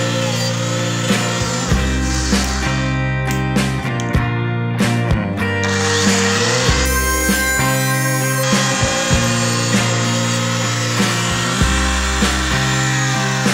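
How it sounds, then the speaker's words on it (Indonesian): Mini rotary drill cutting through a part of a used lighter, a steady high whine with grinding, rasping bursts as the bit bites into the plastic, loud and close throughout. "kita potong menggunakan mesin bor mini seperti ini"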